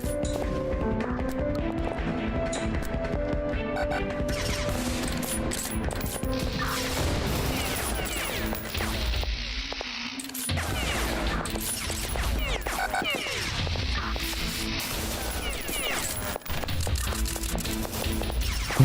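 Scattered gunshots crackle in the Beyond Citadel video game, a mix of sharp close shots and busier bursts over clattering mechanisms and ambient game sounds, continuing irregularly throughout.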